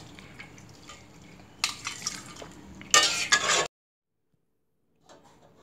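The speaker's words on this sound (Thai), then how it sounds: "เดี๋ยวเราก็ตักขึ้นครับ ถึงน้ำมันออก" Fried pork cracklings scooped out of a pan of hot rendered lard, with scraping and clattering bursts of a utensil against the pan that grow louder before stopping abruptly into silence.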